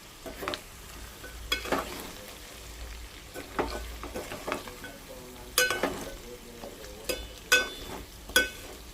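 Dry chicken fry sizzles in a pan while a spoon stirs it, with repeated scraping strokes and light clinks against the metal over a steady crackle, close up and without voices.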